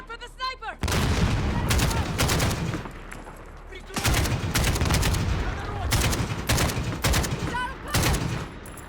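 Call of Duty: Modern Warfare (2019) gunfire rings out in loud, dense bursts of rifle shots and booms that repeat across the stretch, with brief quieter gaps between volleys and a voice shouting at the start.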